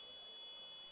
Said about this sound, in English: Buzzer got stuck there, so they got it fixed.